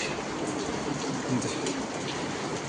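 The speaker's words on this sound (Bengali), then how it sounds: "বাইরে নামতেছে বৃষ্টি।" Morning rain falling outside a cattle shed, a steady soft patter and hiss of drops on surfaces, with pigeons cooing faintly nearby.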